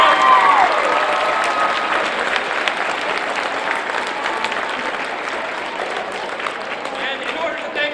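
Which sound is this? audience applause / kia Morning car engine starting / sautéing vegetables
audience applause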